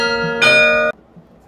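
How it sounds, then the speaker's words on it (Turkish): A church bell in a park behind buildings in Bruges rings loudly for under a second, one struck tone whose dense ringing partials cut off sharply, leaving faint outdoor ambience. "Çan çalıyordu, başlattığımda bitti."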